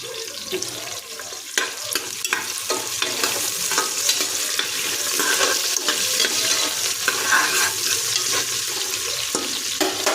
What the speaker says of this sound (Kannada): ಸಣ್ಣದಾಗಿ ಕಟ್ ಮಾಡಿದ್ದು ಬೆಳ್ಳುಳ್ಳಿ ಹಾಕೋತೀನಿ